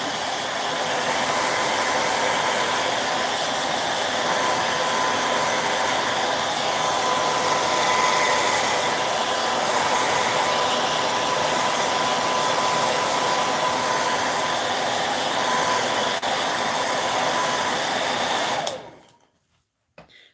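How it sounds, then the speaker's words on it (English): A hair dryer blows continuously at close range for nearly twenty seconds in a crafting session upcycling award plaques, a loud steady whirring drone that cuts off abruptly near the end. "Okay, I'm going to use that annoying hairdryer again"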